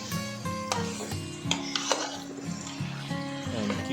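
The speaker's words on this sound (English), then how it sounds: "Mix the mixture properly" A spoon scraping and stirring a thick chicken curry mixture in a pan over raised heat, with repeated rubbing strokes and light clinks against the metal under a soft background hum.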